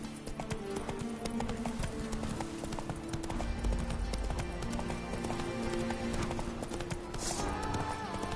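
Roach the horse trots in The Witcher 3: Wild Hunt, hooves clip-clopping in a quick continuous rhythm over a dense background of ambient game sound and music.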